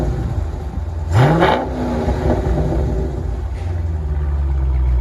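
A Dodge Challenger Scat Pack with a 6.4L HEMI and Dynomax mufflers gives one loud, quick exhaust rev, then settles into a deep, steady idle rumble.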